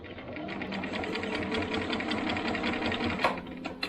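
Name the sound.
sewing machine stitching a quilt seam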